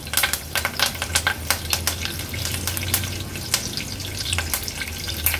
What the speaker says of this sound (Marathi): आता फोडणीला कढीपत्त्याची पानं घालते